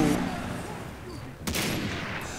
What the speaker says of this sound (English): Probably a sniper rifle, isn't it?